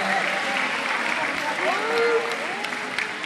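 Steady applause from a crowd at a quinceañera party fills the whole stretch, a dense continuous clatter of clapping with a voice faintly audible underneath.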